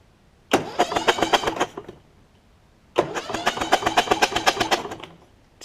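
A Kohler Courage small engine on a Cub Cadet LT1045 mower, with the spark plug and muffler removed, is cranked over twice. Each burst is a rapid rhythmic chugging with puffs of blowback through the intake, close and loud.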